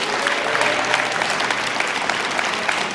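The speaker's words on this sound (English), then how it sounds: "Please give a big round of applause for Yvonne Buford." Audience at a local talent show applauding as a judge is introduced, steady sustained clapping from a sizeable crowd.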